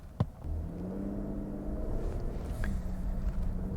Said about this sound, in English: So the twin-turbo 6 is definitely a huge improvement over the old V8